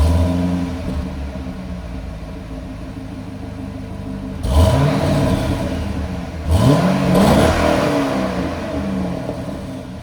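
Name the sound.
stock Corvette C6 engine running and revving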